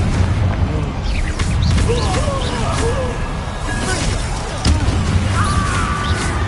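A Confringo blasting spell bursts in Hogwarts Legacy, loud booming impacts layered over dense game combat noise, whooshes and spoken voices throughout.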